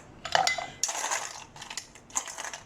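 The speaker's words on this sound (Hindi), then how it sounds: "अब हम डालेंगे इसमें बर्फ़।" Ice cubes dropped into watermelon juice, landing in a series of bright clinks and clatters against the glass, close and fairly loud.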